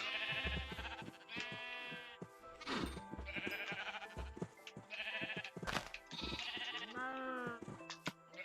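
Several Minecraft sheep bleat again and again in wavering, harmonic calls, some overlapping, with short thuds and game effects between the cries.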